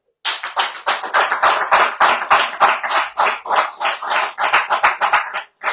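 A studio audience on a French radio show applauds steadily, crisp hand claps close to the microphone with a pulsing, uneven rhythm throughout.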